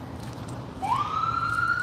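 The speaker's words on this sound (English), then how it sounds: "we got the ambulance going by" An ambulance siren passing along a dark street at night, rising into a sustained wail partway through over low background street noise.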